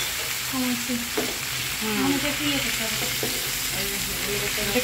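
A ramen sauce of soy sauce, tomato sauce and sugar cooks in a pan, sizzling and bubbling steadily up close with stirring, while voices speak over it.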